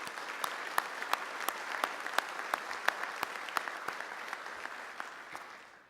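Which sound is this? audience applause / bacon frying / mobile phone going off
audience applause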